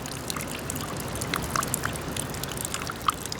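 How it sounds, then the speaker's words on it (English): Rainwater runs off a roof onto melting late-winter snow in Ottawa, a steady trickle with scattered small drips and splashes heard up close. "you can also hear the water rolling off the roof and hitting the snow on the ground, slowly melting away at the snow and creating puddles"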